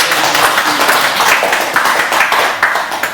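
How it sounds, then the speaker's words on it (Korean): An indoor audience at an academic society gathering claps together in a steady, fairly loud round of applause that carries on evenly through the whole moment, with no voices clearly heard over it. "예, 또 박수 한번 이렇게 해주세요."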